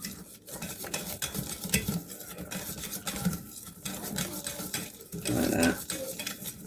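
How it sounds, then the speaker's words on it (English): A spoon stirs sauce in a pan while lasagne is being made, giving soft scraping and clinking against the metal with a faint sizzle. A person talks over parts of it. "Give it a little bit of a stir."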